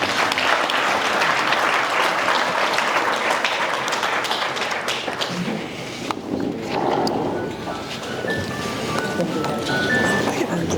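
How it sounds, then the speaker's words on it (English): An audience at a university speech in Limpopo gives the ambassador dense, loud applause that thins briefly midway, then picks up again as clapping continues. "So let's give the Honorable Ambassador a very big round of applause."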